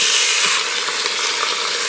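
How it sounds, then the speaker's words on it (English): Meat sears in an Instant Pot with a loud, dense, bright sizzle and hiss, close up and continuous, easing slightly after the first moment. "you hear that sizzle?"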